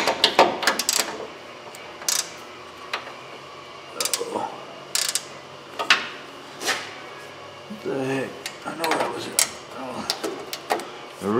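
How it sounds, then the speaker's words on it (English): A ratchet wrench clicks in quick bursts while loosening a nut on the rear wheel of a 2005 Ford Explorer, with metallic clanks between the pulls. "I'm gonna take the nut loose on there"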